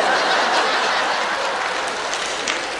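A theatre audience, largely women, applauds a comedy performance, with dense, steady clapping filling the hall throughout and a few faint chuckles mixed in.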